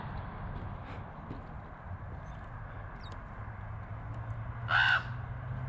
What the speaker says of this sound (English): How about that for crazy birds?